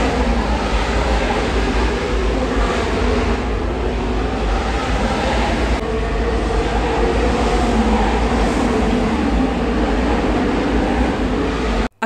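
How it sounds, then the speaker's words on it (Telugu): Formula 1 race cars at the Singapore F1 night race, a loud, continuous broadband roar of engines heard from the crowd side, steady for the whole stretch with no voices over it. "ఇక్కడ ఆల్రెడీ రేస్ స్టార్ట్ అయిపోయింది అండ్ అసలు సౌండ్ అయితే నేను ఇప్పుడు మీకు వినిపిస్తాను"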